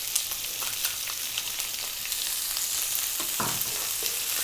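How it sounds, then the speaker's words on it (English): Onion dropped into hot oil with curry leaves fries on high heat for a moong dal curry, a loud, dense crackling sizzle running throughout with stirring clicks. "And then we're going to drop in the onion."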